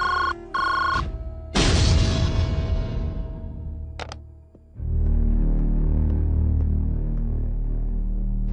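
A telephone in a Telugu film scene rings with short electronic tones, then a loud burst of rattling and ringing sound dies away, followed by a low steady hum with faint clicks.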